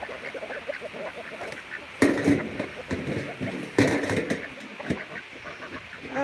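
Farm ducks in rural South Dakota quack and honk in a close, busy flock, with two louder calls standing out above the steady squawking.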